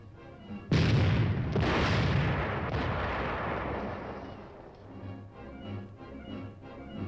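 A high-velocity 90-millimeter tank gun fires one loud, sudden blast, and a long rumbling roar trails off over several seconds and fades into low background noise.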